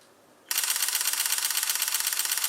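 A Sony a6400 camera fires a fast burst, a brief quiet lead-in and then a rapid, evenly spaced train of close shutter clicks that continues without pause.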